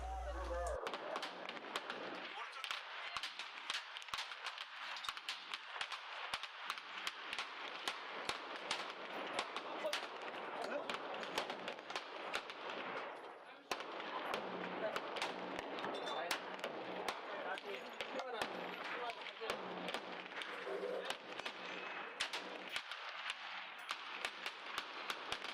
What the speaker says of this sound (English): At this point, I'm shooting at the top target, and I'm using Wilson Combat's ammo.